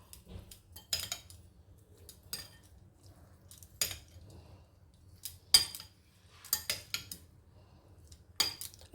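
Coconut milk being stirred into a sweet avil and ulundu usili dish, heard as scattered metallic clinks and spoon scrapes against a vessel between quiet gaps, close by with no talk.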